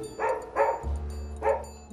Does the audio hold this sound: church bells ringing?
no